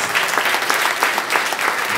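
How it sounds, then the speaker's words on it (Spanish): Applause fills the room as an audience sends off a speaker at a lecture, a full, even round of clapping from many people, close and sustained for the whole moment. "Vamos a despedirla, por favor, con un fuerte aplauso."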